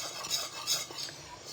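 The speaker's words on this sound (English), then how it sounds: "so here we got our nice boil happening, and it's still boiling even though I'm stirring" Strawberry jam boiling in a pot is stirred with a utensil, giving soft repeated scraping and clinking strokes over a gentle bubbling sizzle, close and fairly quiet.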